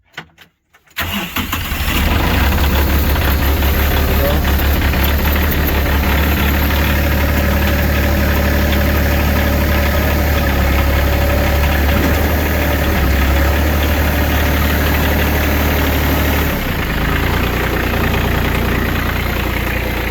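A New Holland tractor's diesel engine cranks and catches in the cold, then idles steadily and loudly close by with a rough, knocking rumble for most of the clip.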